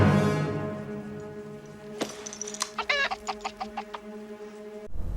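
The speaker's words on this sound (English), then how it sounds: "Chicken?" A chicken clucks in a quick run of short, bright clucks that rise and fall over a sustained droning tone, moderately loud and close.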